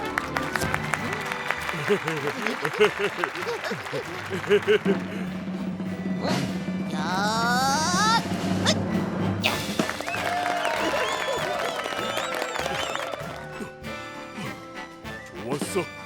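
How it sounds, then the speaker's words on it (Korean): An audience applauds at an animated children's circus show introducing lions leaping through high rings, the clapping mixed with bright circus music, a singing voice and laughter, with people talking over it. "큰 박수 부탁해요."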